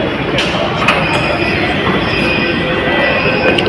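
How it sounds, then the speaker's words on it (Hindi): A metro train pulls into a station with a continuous loud rumble and rattling of wheels on rail, plus brief squeals from the wheels, heard close up on the platform. "आ गई हमारी मेट्रो।"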